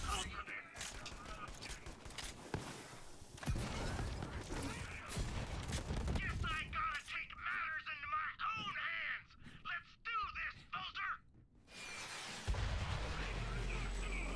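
Shotgun blasts in Borderlands 3, several sharp broadband bangs scattered among game effects and chatter, with a person talking over the action.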